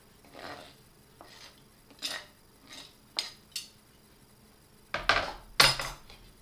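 Japchae noodles tossed with bulgogi in a bowl make a series of light utensil clinks and scrapes, soft at first, then two louder clattering knocks near the end.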